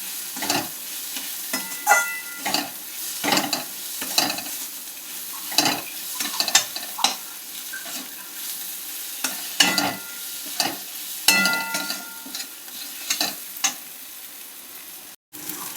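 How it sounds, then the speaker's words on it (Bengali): Masala paste for a chicken curry sautéing in oil while being stirred, with steady sizzling broken by repeated scraping strokes of a spoon against the pan, close and fairly loud, with no one talking. "সব কিছু দিয়ে মশলাটাকে ভালো করে কষিয়ে নিতে হবে, যতক্ষণ না মশলাটা দিয়ে"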